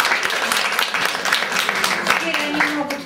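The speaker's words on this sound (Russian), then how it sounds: "Они получили свои аплодисменты." An audience bursts into lively, sustained clapping that fills the room at close range, dense and steady throughout, with a few voices faintly audible beneath the applause.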